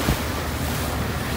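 Sea waves and wind rush steadily around a ferry crossing from Iloilo to Guimaras Island in the Philippines, a loud, continuous wash with wind buffeting the microphone and no voices.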